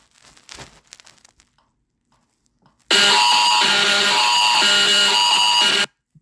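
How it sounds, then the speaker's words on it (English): Canadian EAS emergency alert alarm, a loud, steady electronic tone with pulsing harmonics lasting about three seconds and cutting off abruptly, preceded by faint rustling and near silence. "EAS alarm."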